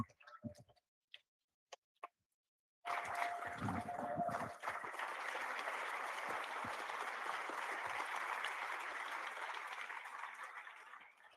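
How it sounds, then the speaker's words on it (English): At a political party's general assembly, a few scattered claps give way to sustained applause from the hall for an electoral commission and volunteers, building quickly and then holding steady before gradually thinning. "So can I have a round of applause for them as well, please?"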